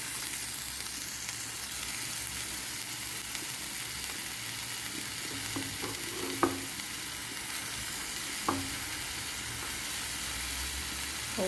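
Garlic sizzles in hot oil in a pan as garnish for lamb majboos, a steady close crackling hiss throughout with a few faint utensil clicks and taps.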